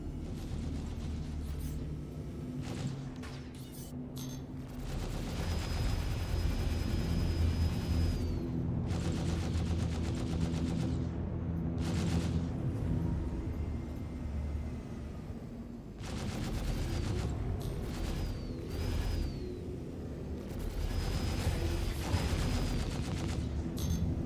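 Gunfire in the video game Star Citizen: repeated bursts of automatic weapons fire and heavy booming impacts, loud and dense, with brief lulls between volleys and no talk over it.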